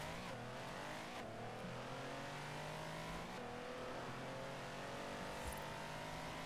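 A Mercedes 6x6 in Forza Horizon 4 drones steadily as its engine climbs through the revs, a continuous, fairly quiet roar with rising tones and no breaks.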